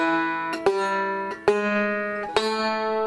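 A banjo plays a short bluesy lick from the bluegrass tune Salt Creek, notes stepping upward chromatically with a few sharp plucked attacks, clear and close with no talking.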